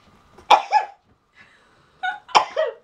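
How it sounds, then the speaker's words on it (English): Two explosive sneezes close up, each with a short breathy lead-in and a trailing vocal tail, about two seconds apart in a quiet room. "I'm going to sneeze,"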